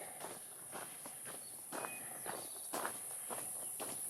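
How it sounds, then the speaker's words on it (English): Steady high-pitched cicada buzzing drones throughout while footsteps crunch along at a walking pace nearby on the Appalachian Trail. "Keep hearing cicadas."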